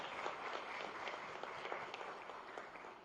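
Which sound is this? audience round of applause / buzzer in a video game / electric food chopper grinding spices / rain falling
audience round of applause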